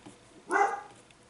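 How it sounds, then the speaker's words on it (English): A single short bark from a very vocal pet dog indoors, sharp and moderately loud, heard alone with quiet around it. "She's a very, very vocal dog."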